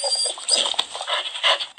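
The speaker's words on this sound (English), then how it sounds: "it's a dog that is very hungry and wants in to get some food and shelter" A hungry dog in a video game, high thin whimpering and sniffing sounds in quick irregular bursts, close and alone.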